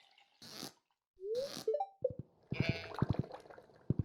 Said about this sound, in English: So the process for shearing the sheep is exactly the same as it is for milking the animals.